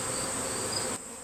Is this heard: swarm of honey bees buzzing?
yes